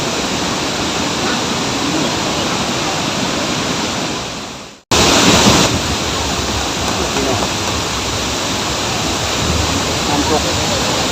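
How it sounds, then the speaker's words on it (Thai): A waterfall at Tad Lo in Laos roars as a loud, steady, broadband rush of falling water. It continues without a break except for one brief dropout midway. "น้ำตก"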